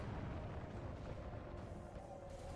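Distant booming gunfire from gunner units in the medieval strategy game Medieval II Total War, a continuous rumbling barrage of low blasts under a steady battle din.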